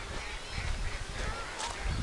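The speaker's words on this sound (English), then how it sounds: "Oh, there's some more geese down there." Geese honking beside a canal, a steady outdoor clamour of several birds at moderate distance, continuous through the stretch with no talk over it.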